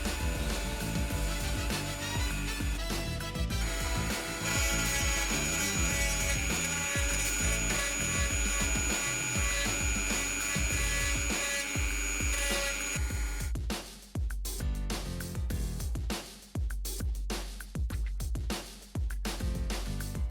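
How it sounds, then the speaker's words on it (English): A tool carves a design into the surface of a wooden knife, first as a dense, continuous grinding whir, then as a string of sharp, uneven scraping strokes, close and loud. "Now let's get carving. Etch that design onto the knife surface and don't be shy."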